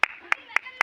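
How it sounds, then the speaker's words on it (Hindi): Children playing a group game clap in four sharp, distinct bursts spaced roughly a quarter second apart, close and crisp, with faint background murmur between claps. "ताली बजाओ"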